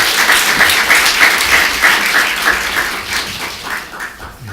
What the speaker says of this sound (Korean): 다시 한번 큰 박수로 격려 부탁드리겠습니다.